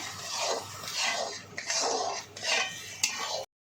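Wheat flour sheera with sugar and cardamom powder is stirred in a pan, the spoon scraping the base in about four rhythmic, close, moderately loud strokes with short pauses between.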